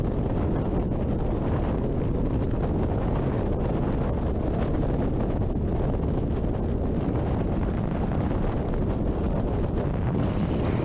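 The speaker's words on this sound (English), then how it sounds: "all that wind blowing in your face, trying to blow the cube out of your hands" Heavy, constant roar of wind buffeting a microphone during a skydive freefall, loud and unbroken throughout with no other sounds.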